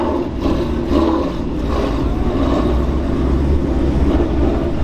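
A Ford Mustang with a Coyote V8 engine rumbles at a busy car show, a steady, fairly loud low engine roar with brief louder swells, continuous throughout with no clear talk.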